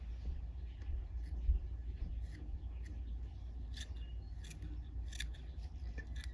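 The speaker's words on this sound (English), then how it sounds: "I'm going to trim these down, and I'm going to trim a little bit so they're not all the same size" Scissors snip repeatedly at fly-tying materials while a Shanks Minnow is finished, giving crisp, close cuts in an irregular rhythm over a low, steady room hum.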